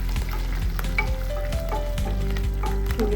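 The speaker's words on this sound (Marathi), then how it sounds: "आणि कढीपत्ता घालूया छान घालून घेऊया" Curry leaves hitting hot oil with asafoetida for a Rajasthani dal, a loud close burst of crackling sizzle that holds steady for a few seconds.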